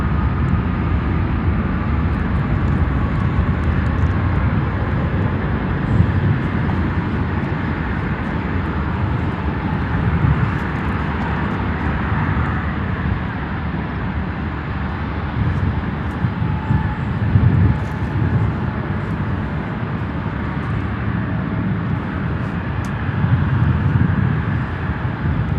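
Jet aircraft at Chicago O'Hare airport, a continuous loud roar of engines and rushing air around the runways that stays steady throughout.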